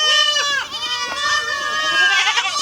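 Several goats bleat loudly and close by, overlapping wavering cries that continue nearly nonstop.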